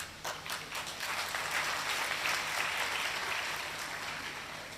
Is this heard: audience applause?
yes